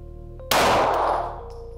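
One loud pistol shot fired at an indoor FFTir shooting range stand, a sudden sharp blast that booms and decays over about a second against a steady low hum.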